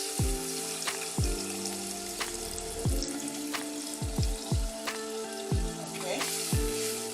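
Beef stock pours into a hot pan of spaghetti jollof, setting off a loud, steady sizzle and bubbling fry, with repeated sharp clinks and scrapes of a spoon against the pan throughout.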